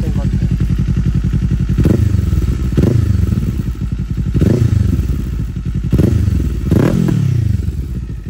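Kawasaki Eliminator 450 fitted with a Yoshimura R77 aftermarket exhaust, loud and close, with a steady pulsing idle broken by about five quick throttle blips that rise sharply and fall back to idle.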